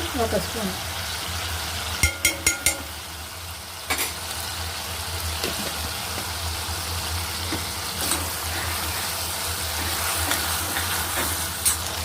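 Ginger paste frying in a pan for a paneer and drumstick masala curry, a steady close sizzle with a few sharp spoon clicks against the pan, continuous throughout.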